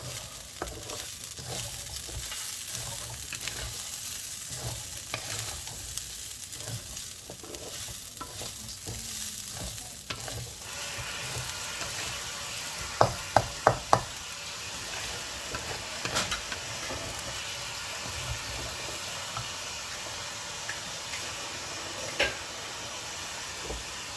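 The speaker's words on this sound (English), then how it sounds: "Fry the rice for about 10 minutes" Rice frying and drying out in a pan, a steady close sizzle and hiss running continuously, with a few sharp clinks of stirring against the pan partway through and no talking.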